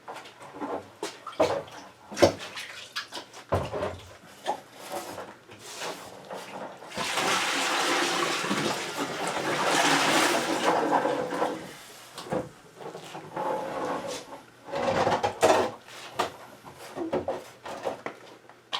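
Water is poured out of a household water softener's reservoir, with clunks and handling knocks followed by a sustained splashing gush in the middle and more intermittent sloshing afterward.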